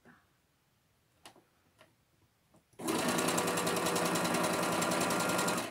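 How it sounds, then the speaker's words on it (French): A sewing machine stitching a disposable blouse, a few faint taps and clicks first, then a loud, rapid, even mechanical stitching rattle running steadily for about three seconds. "Et je finis de coudre la nouette sur les 30 derniers centimètres."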